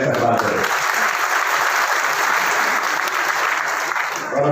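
Loud, sustained applause from a large crowd at a political rally in Bijnor, dense and steady throughout.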